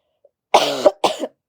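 Two sharp coughs close to the mic, the first longer and the second quick, in otherwise silent surroundings.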